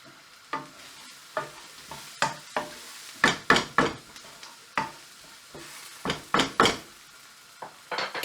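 Chilies, garlic and ginger fry in a pan for a Sri Lankan chicken curry. A spatula stirs and scrapes about a dozen times in quick, uneven bursts, close and clear, with a soft sizzle underneath and no voices.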